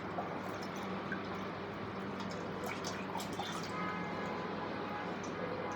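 Used washing water poured out in a steady, continuous splash and trickle, moderately close, with faint dripping and a soft hiss throughout and no talk over it.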